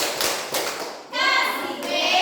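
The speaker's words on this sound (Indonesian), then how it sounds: "kita kasih tepuk wow dulu" Fifth-grade children in a classroom perform the rhythmic 'tepuk wow' clap pattern, a few sharp claps and thumps followed by a chorus of young voices chanting together.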